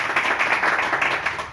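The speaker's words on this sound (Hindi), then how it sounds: "जोरदार ताली हो जाए।" Applause from a live audience at a Hindi shayari and poetry performance, a dense steady patter of many hands clapping at moderate loudness, lasting through the short clip with no voice over it.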